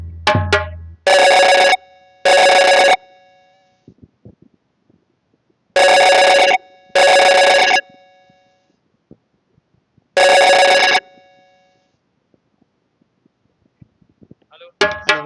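A telephone rings in loud repeated double bursts with pauses between them while a call is redialled, the electronic tone clear and dominant, with a brief murmur at the very start and end.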